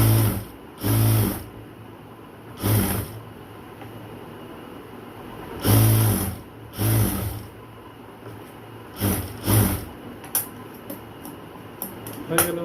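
Sewing machine stitching a sleeve joint on a dress, several short bursts of rapid mechanical whirring separated by pauses, close by, with faint low-level sounds in between.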